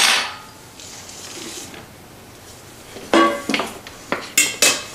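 Dry and wet ingredients are mixed in a bowl, with a quiet scraping stretch followed by several sharp, close clinks of a utensil against the bowl in quick succession.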